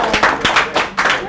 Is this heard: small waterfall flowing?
no